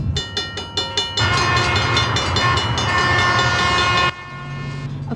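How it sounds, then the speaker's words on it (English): A train goes by with a loud, sustained horn blast lasting several seconds, preceded by rhythmic clicking and followed by the steady rumble of the cars rolling past nearby. "Oh, shoot, there's a train."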